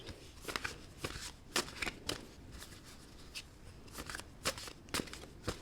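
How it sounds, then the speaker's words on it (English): Tarot cards are shuffled by hand in a quiet room, producing soft, steady riffling and flicking with repeated crisp snaps, close and fairly faint, with no talking. "I actually do feel like I'm going to pull a couple more cards."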